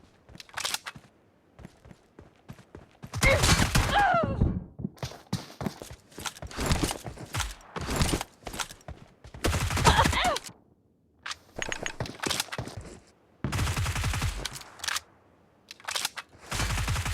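In a video game, a UMP submachine gun fires in several short bursts separated by pauses, loud and close.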